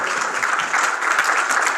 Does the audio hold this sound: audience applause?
yes